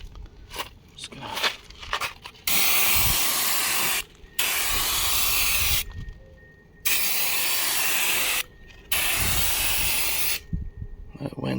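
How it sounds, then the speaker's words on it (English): A can of Rust-Oleum flat black spray paint hisses in four long, steady, loud bursts, each a couple of seconds long with brief pauses between them. It is sprayed outdoors on the turbo piping of an LS-swapped Miata. "I'll show you how well this paints or sprays"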